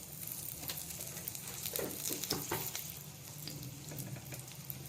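Ginger garlic paste with chili powder, salt and turmeric sizzles softly in hot oil in a pan, a faint steady frying hiss with a few small pops and stirring scrapes.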